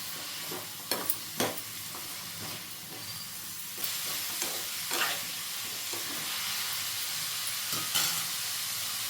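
Sliced ridge gourd and green chillies sizzle in a hot pan with a steady hiss, broken by several close clattering stirs of a spoon, alone with no talking.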